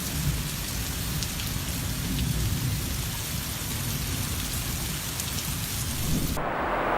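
Steady heavy rain pours down outdoors with a low rumbling roll of thunder underneath, ending in a sudden sharp crack from a close lightning strike.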